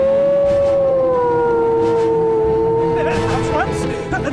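A loud wailing ambulance siren holds a steady, slowly falling tone close by, with street noise and a clatter joining near the end.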